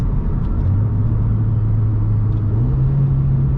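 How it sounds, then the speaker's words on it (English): A Mitsubishi Lancer Evolution X's turbocharged engine drones steadily, its low pitch rising into a higher sustained rev with a faint turbo whistle above the rumble, heard from inside the car. "you guys can hear the turbo a little bit there"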